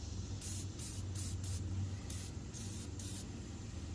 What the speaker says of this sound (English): I'm also going to spray a little bit on the top of the tie rod right here